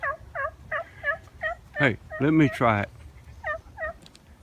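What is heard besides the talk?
wild turkeys gobbling in response to calls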